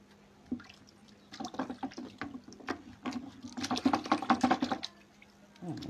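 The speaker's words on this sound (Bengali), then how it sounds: "আমি আবার সবগুলো ব্লক এখন ধুয়ে ফেললাম।" Printing blocks being rinsed under running water, with irregular splashing and dripping bursts close by that swell toward the end, and a faint voice briefly audible.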